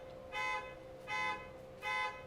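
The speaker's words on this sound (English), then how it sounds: "that's the second time an alarm's gone off" A car alarm goes off outside, sounding as three even, repeating electronic blasts at a steady moderate distance over a low background hum, with no talking.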